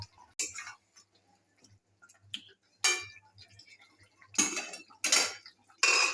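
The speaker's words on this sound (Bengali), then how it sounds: "চিকেনটা নাড়িয়ে দিলাম।" Chicken curry being stirred in a pan with sharp metallic scrapes and clinks of a utensil, coming in irregular bursts, louder toward the end, with quiet gaps between.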